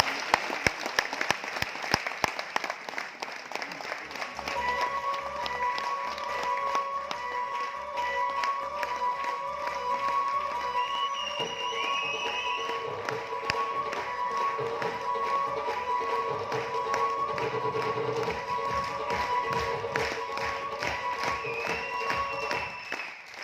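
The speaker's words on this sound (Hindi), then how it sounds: "आज इस हॉल में Ruby miniature Ajay Bharat sir को मैं आपकी जोरदार तालियों में इन्वाइट करता हूं।" An audience in a hall bursts into loud, sharp clapping, which settles into sustained applause under steady music with sung or held tones, continuing for over twenty seconds.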